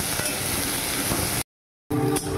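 Potatoes frying in hot oil in a wok give a steady, close, crackling sizzle that cuts out completely for a moment before resuming.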